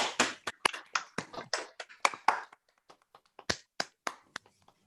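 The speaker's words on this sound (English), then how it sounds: "switch on your mics and give a big clap to Scott Mandelbrote for this fantastic talk" Scattered claps from an online audience over their microphones, a quiet burst of irregular sharp hand claps that thins out to a few sparse taps.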